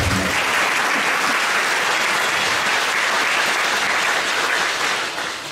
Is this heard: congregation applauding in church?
yes